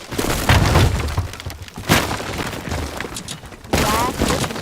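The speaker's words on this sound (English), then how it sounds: "glass versus wood." Glass smashing against wood in the video game Teardown, repeated loud cracking and shattering impacts with scattering debris, close and dense throughout.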